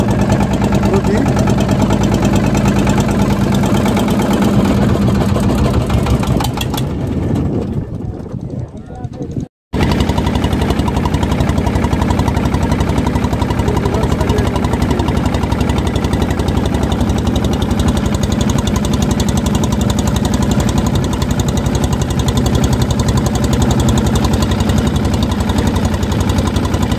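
A boat engine runs on the Jamuna river while the boat is stuck on a sandbar in a narrow channel. It makes a loud, steady chugging drone that fades and cuts out briefly partway through, then resumes at full strength.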